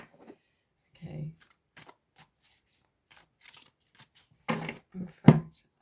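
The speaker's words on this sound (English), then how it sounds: "One more shuffle." A deck of cards is shuffled by hand in short separate bursts of riffling and flicking, close and crisp against near silence, with one louder riffle near the end.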